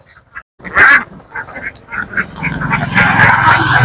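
Large laying ducks on a Bangladesh duck farm quack as they are loaded from cages into a vehicle, starting with a few scattered calls after a short quiet gap and then swelling into a loud, dense flock chorus.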